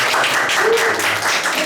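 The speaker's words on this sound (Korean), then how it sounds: "박수해 드릴까요" Brief round of clapping from a group indoors at a lecture, dense and steady, with a faint murmur of Korean voices underneath.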